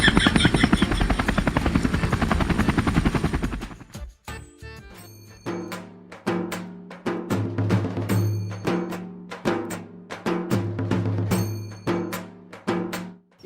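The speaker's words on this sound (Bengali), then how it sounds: "আমার হেলিকপ্টার ল্যান্ড করার জায়গাটাও তো দেখতে হবে।" A comedy helicopter landing effect: a loud, fast rotor chop for several seconds, then cutting into a rhythmic series of thumping, bouncing beats with tonal hits.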